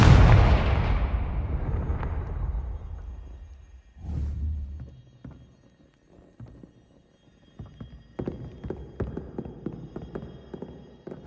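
A Confringo spell explosion in Hogwarts Legacy, a loud fiery blast that decays over about three seconds, then a second sharp burst, followed by scattered clicks, pops and smaller impacts.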